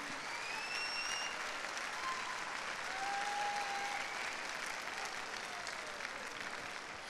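Loud, sustained applause from a large audience at an anniversary event, welcoming a speaker onto the stage; dense clapping fills the whole stretch at an even level while a few faint tonal squeals drift through.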